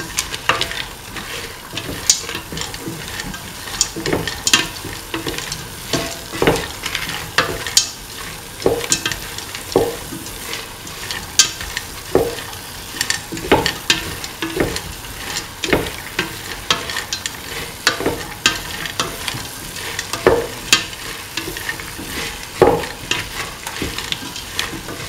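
Cauliflower, peas and carrots frying in a pan with tomato are stirred, giving repeated scraping strokes at an irregular rhythm over a steady close sizzle. No one speaks.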